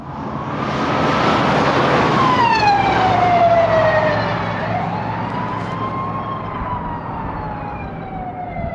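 An emergency vehicle siren sweeps past, its wailing tone rising and then falling in pitch as the vehicle goes by, loud and close at first, then fading while road noise continues.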